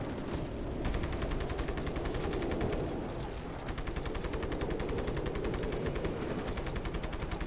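Rapid, continuous automatic gunfire in Just Cause 3 rattles on for several seconds in a steady stream of shots, loud and close, with a brief pause partway through.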